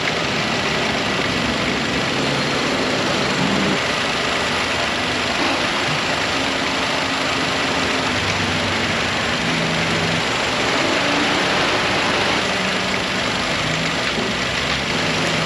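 A car engine idles steadily in a repair shop while the AC compressor cycles, giving a continuous dense broadband hum with low rumble, heard close and alone with no talking.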